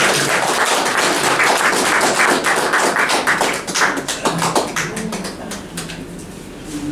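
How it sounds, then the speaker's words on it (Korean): Audience at a lecture applauding to welcome the speaker, a loud sustained burst of many hands clapping that gradually thins into scattered claps. "우리 강사님 나오실 때 크게 한번 박수 보내주시면 좋겠네요"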